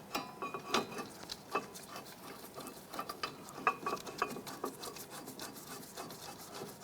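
A bolt is threaded by hand into the strut mount of a 2001-2007 Ford Escape, giving soft, close scraping and rubbing metal clicks in short irregular bursts, with no talking.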